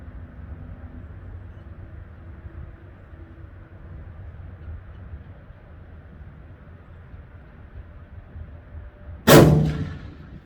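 A single sharp rifle shot from a .270 Winchester load at an outdoor shooting range, loud and close, ringing out briefly after a long stretch of quiet ambient noise.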